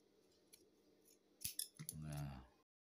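Scissors snip through fabric while a collar for a university almamater jacket is sewn, a few close, sharp cuts ending in a longer rustling slice, with faint voices in the background.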